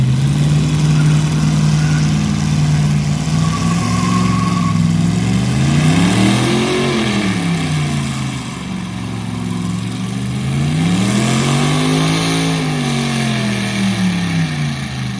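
LS-swapped Ford Crown Victoria V8 with a cheap turbo revving loudly, engine pitch rising and falling in two long sweeps over a steady drone.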